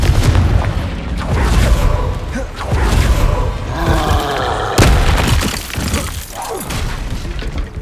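Confringo fire-blast spell cast in the Hogwarts Legacy game, a loud booming burst with thuds amid dense combat noise, other spell impacts and shouting layered throughout.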